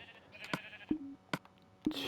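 Minecraft-style sheep bleats in a video game, a few short nasal calls spaced about a second apart, moderately close, over soft game background sounds.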